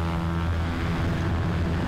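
A Cessna 152 piston engine with a muffler, heard from outside in a flight simulator, drones loudly and steadily, with a rich harmonic hum and no pauses.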